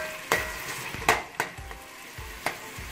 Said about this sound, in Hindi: 1 प्याज जो मैंने काटा था, आप उसको ऑयल में डाल के अच्छे से पका लीजिए।